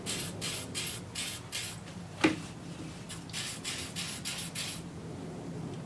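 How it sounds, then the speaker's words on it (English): Short aerosol bursts of suede and nubuck protector sprayed onto leather shoes, about ten rapid hissing puffs in a steady rhythm, close and moderately quiet, with one sharper knock midway. "I'm going to spray in there a bit and do the best job I can"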